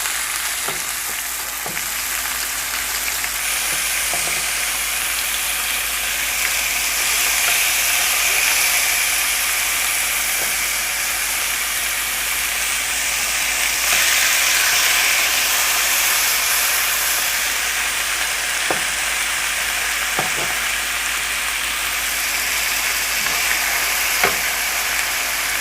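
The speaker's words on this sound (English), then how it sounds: "it's time to get our quail onto the oil. It's nice and hot. And again, just trying to sear it on both sides" Quail searing in hot oil gives a loud, continuous sizzle and hiss throughout, with occasional light knocks and taps from handling the pan.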